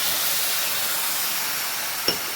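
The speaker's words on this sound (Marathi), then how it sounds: "तर चला आता याच्यामध्ये आपण थोडं पाणी टाकून घेऊया" Water is poured into a hot pan of eggplant, potato and peanut curry, producing a loud, steady broadband hiss of steam that fills the whole stretch, close by, with one small clink near the end.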